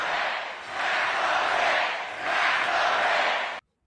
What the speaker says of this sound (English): this crowd is fired up